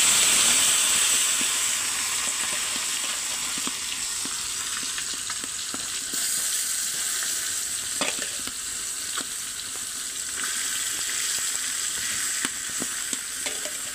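Marinated small fish fry in hot oil in a wok with a steady, loud sizzle and crackle. Fresh pieces drop in at intervals, and each one brings a brief burst of spitting. No voices are heard.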